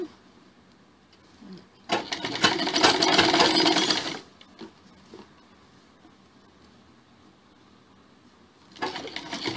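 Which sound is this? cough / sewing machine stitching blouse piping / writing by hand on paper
sewing machine stitching blouse piping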